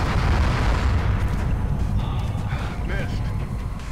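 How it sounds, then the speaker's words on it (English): A video game explosion in XCOM Enemy Unknown, a sustained heavy rumbling blast that is loud from the start and tapers gradually over several seconds, with faint game effects at the end. "It's up there, the explosion."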